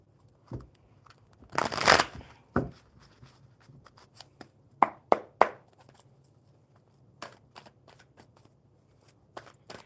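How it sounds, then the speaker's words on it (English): Playing cards shuffled during a relaxed live tarot and coffee session, a dense riffle burst near the start followed by scattered sharp card snaps and taps, close and fairly loud, with no talking. "One more good shuffle for Ermi here"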